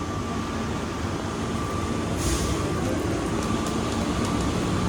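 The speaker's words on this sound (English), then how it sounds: "Plane train, please hold on. This train is departing." An airport plane train rumbles steadily as it departs toward the E gates, a constant loud drone with a faint high whine, no voices.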